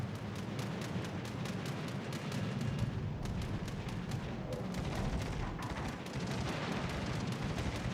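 Rapid, rhythmic anti-aircraft gunfire in a naval combat game, sharp repeated reports in a steady stream over a low rumbling background, continuous for several seconds with no talking.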